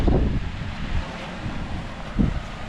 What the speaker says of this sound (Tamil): காற்று ஆப்போசிட் அடிக்குது.